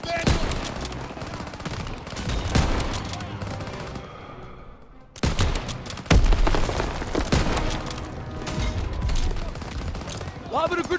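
Gunfire in Call of Duty: WWII, a campaign battle with rifles and machine guns, rattles in loud dense bursts, briefly dropping away midway before resuming, with shouted voices and battle noise throughout.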